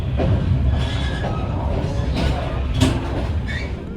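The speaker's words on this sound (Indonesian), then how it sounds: "baru aja kereta api Mutiara Selatan berangkat dari stasiun Surabaya Gubeng tepat pada pukul 18:10" The Mutiara Selatan train pulling out of Surabaya Gubeng station, a low rumbling roll with rattling and a brief squeal-like burst near the end, heard from on board over faint background voices.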